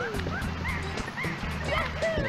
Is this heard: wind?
no